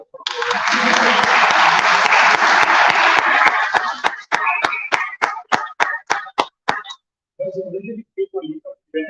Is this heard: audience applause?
yes